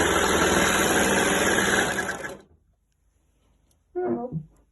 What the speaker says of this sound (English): I'm going to put this edge first of all through my overlocker